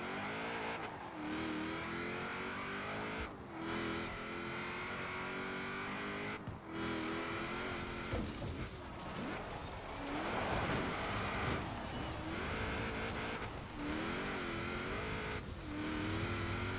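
Mitsubishi rally car power sliding on a dirt track in Forza Horizon 4, engine roaring continuously with revving pitch swings and brief gear-change dips, loud and close with tire scrub under the engine.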